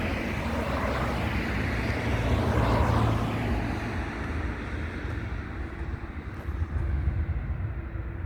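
A large aircraft on approach to London Heathrow airport roars steadily overhead, a broad loud rumble with rushing air noise that swells and holds throughout, heard outdoors on a hot day.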